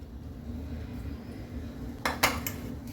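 Metal lid clanks onto an idli steamer pot holding akki kadabu rice dumplings, two quick bright clinks near the end after a low kitchen hum, close and without talk.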